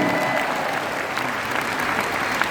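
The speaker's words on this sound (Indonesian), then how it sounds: "berikan tepuk tangan kemuliaan dan sorak-sorai" A congregation at a revival church service claps steadily in dense, continuous applause that fills the space from start to finish, with no individual voices standing out.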